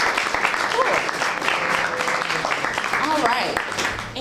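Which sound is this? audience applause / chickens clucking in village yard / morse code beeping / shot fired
audience applause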